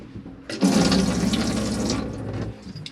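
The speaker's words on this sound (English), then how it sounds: "That water's nice and warm because the water heater's been on." Water runs from the drop-down sink tap in an Elddis Signature 155 caravan. It is a close, steady gush that starts abruptly, holds for about two seconds, then fades.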